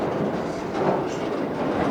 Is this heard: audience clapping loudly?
no